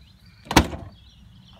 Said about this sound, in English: if I pull on the door handle in this direction,